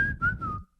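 A single short whistled note, clear and slightly falling in pitch, sounds close and alone for under a second before cutting off.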